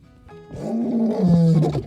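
A lion roars once, a deep, rising and swelling bellow that builds over about two seconds, loud and close with no other sounds.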